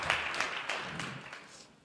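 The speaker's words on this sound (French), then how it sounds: "On peut applaudir leur initiative de venir avec nous sur la scène." An audience at an education conference applauds students who came up on stage, a short burst of moderate clapping that fades away within two seconds.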